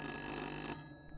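A telephone rings in The Dark Pictures video game, a brief shrill electric bell that sounds for under a second and then cuts off.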